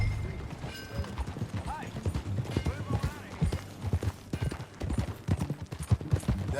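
Hooves clip-clop in a steady walking rhythm from a horse in the video game Red Dead Redemption 2 while people talk over them, with faint game-like ambience behind.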